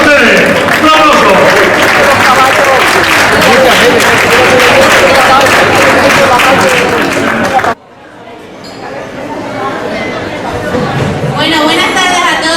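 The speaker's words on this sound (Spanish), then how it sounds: "Un aplauso." Gala audience at an awards ceremony gives a loud, sustained round of applause for a folk group, dense clapping with chatter that cuts off abruptly, then quieter clapping builds again.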